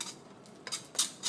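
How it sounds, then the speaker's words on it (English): Steel knife blade scraping raw meat from a chicken bone during deboning, a few short, close scratchy strokes spaced apart. "once you get to the bone, you can start scraping it away"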